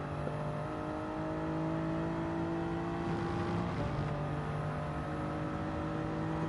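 Race car engine in Gran Turismo 7 at Interlagos, a steady, loud, tonal engine drone holding near-constant pitch through a corner with slight shifts in throttle, no talking.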